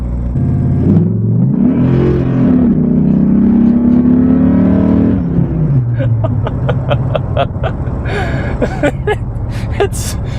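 A modified 2006 Dodge Ram SRT-10 pickup's V10 engine revs with a rising, roaring whine, then settles into a rough, pulsing idle with sharp bursts, loud and close.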